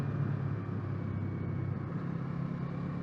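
Kawasaki 500 motorcycle engine rolling on at highway speed, a steady, loud low drone with continuous wind rush and no pauses, close and constant throughout.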